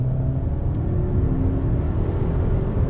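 A 2021 Land Rover Discovery Sport pulls under throttle, its engine giving a steady, muffled rumble and whir heard from inside the cabin, continuous and fairly loud with no talk.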